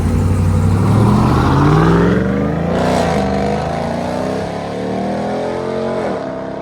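A 2022 RAM TRX pickup truck with a muffler delete drives off, its loud raw exhaust roaring up through an acceleration, then easing into a lower, steady drone as it pulls away.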